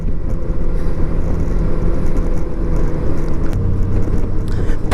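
A red Honda Gold Wing motorcycle riding on the road with another behind it, giving a loud, continuous engine rumble and wind roar heard from on board, with no talking.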